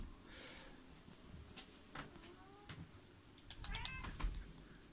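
A cat meows indoors, several faint, short calls scattered over a low background hum, with a brief livelier burst of mewing toward the end.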